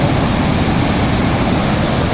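Water rushes through the broken crest gate of the Tungabhadra dam in a steady, loud, continuous roar, with no voices over it.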